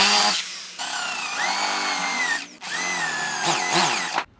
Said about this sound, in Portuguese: Esse é o jeito mais preciso de fazer o furo com a broca chata vazando